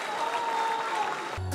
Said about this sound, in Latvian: Un viens aplausi!